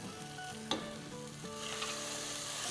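Masala frying with tomato puree for a fish curry, a loud continuous sizzle with scraping stirs and a sharp clatter near the start, no talking.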